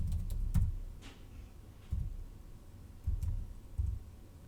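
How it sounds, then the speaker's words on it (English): A computer keyboard is being typed on in scattered bursts, with quiet key clicks and a few louder thumps of heavier keystrokes, close by against a quiet room. "Now I'm gonna type"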